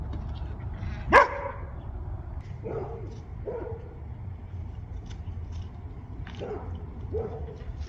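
A pet pup gives one sharp bark and then a few softer barks at home outdoors, each short and spaced apart over a steady low background hum.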